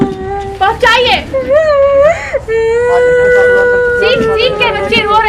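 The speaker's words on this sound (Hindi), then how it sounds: "सीख के बच्ची रो रही है" A young girl cries loudly and continuously at close range, with wavering high-pitched wails and sobs, after a hand injury from treatment at a Patna hospital.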